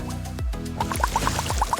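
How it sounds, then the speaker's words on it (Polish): Water drips and splashes at a quick, uneven rhythm onto a rolled white T-shirt held with rubber bands as it is soaked, close and fairly loud, with no talk. "Trzeba ją solidnie zmoczyć wodą."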